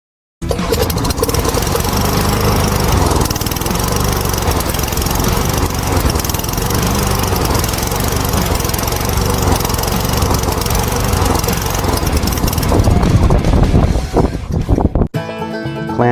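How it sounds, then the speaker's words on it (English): A Wacker portable generator engine runs close and loud in a steady, rough drone, ending with a sputter and a sudden cut as the engine shuts off. "So yeah, this is a very, very good generator."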